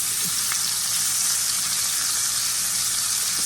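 A steak sears in a hot pan while being pressed down, giving a loud, dense, unbroken sizzle heard up close with no talk.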